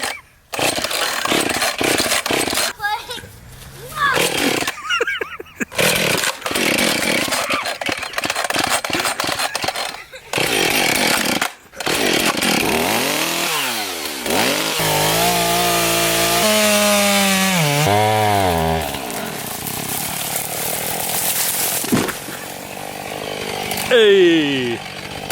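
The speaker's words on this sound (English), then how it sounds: "Ben's cutting down more trees over there. That's why it's so loud." A chainsaw felling dead trees for firewood roars close by, revving and bogging down again and again as it cuts through the wood, with the engine pitch rising and falling across repeated cuts.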